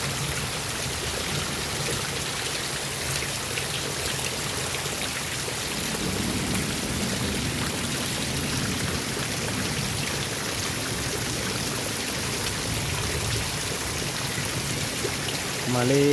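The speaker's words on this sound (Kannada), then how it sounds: "ಅಷ್ಟು ಮಳೆ ಇವತ್ತು" Heavy rain pours down in a dense, constant roar that stays unbroken throughout.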